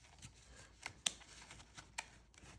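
Soft papery riffling and a few sharp card snaps, quiet and close, as a stiff deck of oracle cards is shuffled in short bursts.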